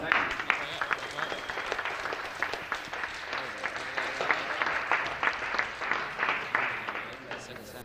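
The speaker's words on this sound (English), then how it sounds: "round of applause for our third place driver, Dane Oliver." An audience at a racing awards ceremony applauds a third-place driver steadily with many overlapping claps, a sustained round of moderate loudness with faint talking underneath.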